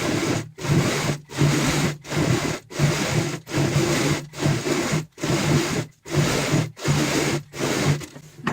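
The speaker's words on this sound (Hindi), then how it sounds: "अब हमें बाहर की साइड यहाँ पे सिलाई लगानी है इस तरीके से।" Domestic sewing machine stitching a round cushion cover along a marked line, a loud steady motor whir with rhythmic needle chatter running in bursts of about half a second, separated by brief pauses, with no voices.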